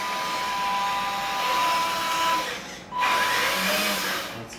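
Electric motor of a HUINA 1/14 metal hydraulic dump truck, a Benz tipper model, driving. It gives a steady high whine that briefly drops out near the middle and then resumes, heard close and without talk.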